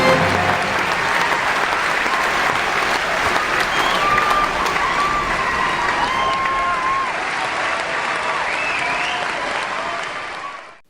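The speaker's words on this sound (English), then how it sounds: "give him a huge round of applause" A studio audience on the Who Wants to Be a Millionaire game show bursts into sustained, dense applause for a new millionaire, loud and steady throughout before cutting off at the end, with faint voices and whoops mixed in.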